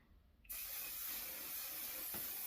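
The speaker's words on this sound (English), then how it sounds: "Hairspray, you guys." Hairspray from an aerosol can, used to set drag makeup, gives one sustained close hiss that starts abruptly after a quiet moment and runs on steadily, with no talking over it.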